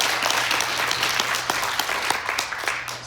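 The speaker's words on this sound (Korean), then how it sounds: "한정석 사장님, 한수현 사장님께 큰 박수 부탁드립니다." Large audience clapping at a leadership conference in Korea, sustained dense applause lasting throughout at steady loudness, with no talk over it.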